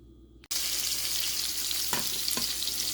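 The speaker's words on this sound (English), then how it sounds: "We're also going to cook them in the same pan." Meatballs frying in a pan make a loud, steady sizzle that starts abruptly and continues with a few sharper pops and crackles, with no voices.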